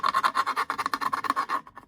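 Rapid rhythmic scraping as a metal craft die is cleaned off, about a dozen quick back-and-forth strokes, close and harsh, ending abruptly.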